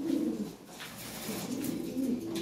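Lahore Siraji pigeons coo in soft, low, rolling phrases, several repeated calls close by with faint background rustle and no voices.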